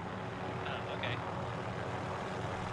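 A helicopter flies in a video game, giving a loud, steady engine and rotor drone that runs unbroken through the short stretch.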